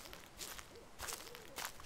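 Soft, repeated owl hoots in the Slender video game, a few faint calls spread across a quiet night ambience with a low hiss.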